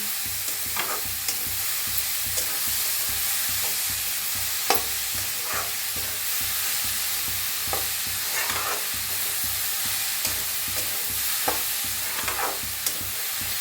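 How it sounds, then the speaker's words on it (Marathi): Peas and cabbage sizzle gently in a pan as a spoon stirs them with salt, a steady frying hiss punctuated by repeated scraping strokes every second or so, no talking. "चवीप्रमाणे मीठ घेऊया भाजीला सगळं मिक्स करून घेऊया"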